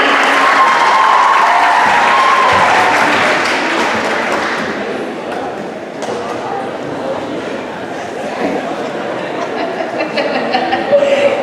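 A crowd at an All Star Classic opening ceremony gives the Stingrays players loud, dense applause with some cheering that eases slightly midway and then picks up again.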